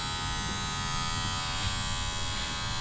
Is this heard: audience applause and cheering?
no